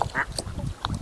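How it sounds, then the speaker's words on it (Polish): Ducks at a lakeside campsite give a few short, fairly close quacks in quick succession, with no talking over them. "Miki, jak robią kaczki?"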